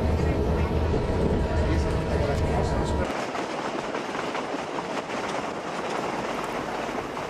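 A train runs through the Urubamba valley toward Machu Picchu. Steady loud rumble and rolling rail noise fill the whole span, and the low drone drops away about midway as the ride continues with a brighter clatter.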